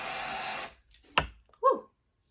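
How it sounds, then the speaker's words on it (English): A steady hissing spray from an aerosol can sprayed onto a face lasts under a second, followed by a few short clicks and rustles and a brief voiced sound. "Let me spray my face."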